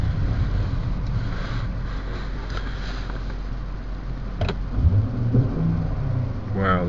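A 2002 BMW M5 E39 engine runs loud and steady, with a deep rumble mixed with road and wind noise and a brief rising rev near the end.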